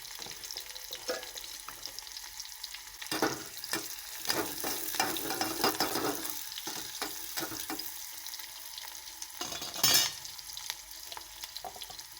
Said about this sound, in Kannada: ಇವಾಗ ಈರುಳ್ಳಿ ಚೆನ್ನಾಗಿ ಫ್ರೈ ಮಾಡ್ಕೋಬೇಕು